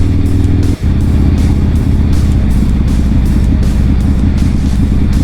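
Motorcycle riding on a road near Beaver Dam, with a loud, close, continuous engine drone and steady wind rush, briefly dipping once before holding its even tone.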